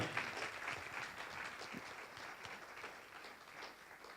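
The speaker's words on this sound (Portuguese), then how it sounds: "Então vamos aplaudir Jesus." Steady applause from a church congregation, a dense wash of clapping that holds at an even level throughout without any voices standing out.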